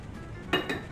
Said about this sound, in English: That's a pan.